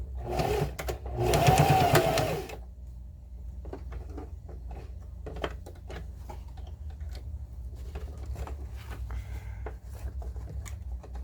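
A sewing machine stitches denim for a backpack made from old jeans, opening with a loud close burst of rapid stitching, then settling into quieter intermittent ticks and clicks of the mechanism.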